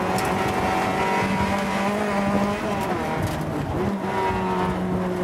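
Luc Brunet's rally car drives hard over a rough gravel stage, its engine droning steadily and loud throughout with shifting pitch, gravel and road noise filling the background and brief tyre scrabble.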